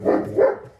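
A dog barks twice in quick succession nearby, loud and short, in a workshop where a water jerry can is being restored.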